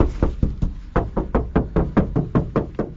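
Knuckles rap an RV door insulated only by a thin plastic sheet, about fifteen quick, hollow knocks in a steady rhythm, close and loud with no talking.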